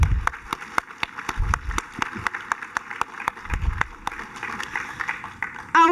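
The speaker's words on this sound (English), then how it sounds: "These guys also deserve an applause for their hard work and dedication" Audience applause at a graduation ceremony for international students at West Virginia University, a crowd clapping steadily for six seconds with sharp individual claps standing out, ending abruptly.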